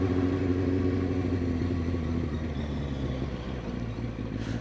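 A learner's motorcycle moving steadily at around 20 mph on a road test, its engine droning continuously at close range with a rough mid-pitched note and slight clatter, no voices over it.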